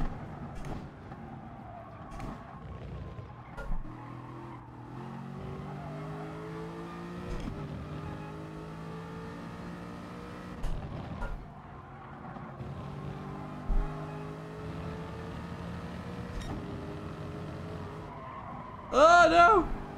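Race cars in Gran Turismo Sport, a GT Sport manufacturer series race, with steady engine drone rising and falling through gear changes, occasional tire skids and a loud burst near the end.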